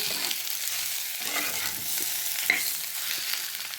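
Radish chutney ingredients frying in a pan with steady close sizzling and soft scraping of a spatula stirring throughout, without talk.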